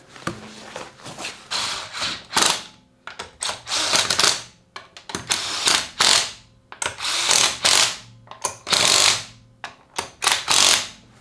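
A socket ratchet tightens a wheel on a T3 Vanagon, its rapid clicking runs in repeated bursts with short pauses between strokes, close and loud, with no talking.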